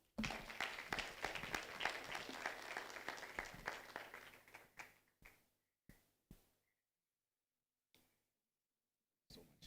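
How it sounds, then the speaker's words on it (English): Audience applause at a school career fair, a round for a guest from a senator's office: dense clapping for about four seconds, then thinning to a few scattered late claps with quiet gaps. "A round of applause again for Madam Mwalo from the Office of the Senator"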